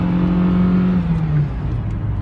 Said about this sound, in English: that triple turbocharged engine